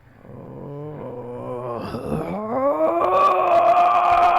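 A human voice imitating a growl: a deep, rumbling tone that swells louder and rises in pitch into a sustained, strained snarl, close and alone.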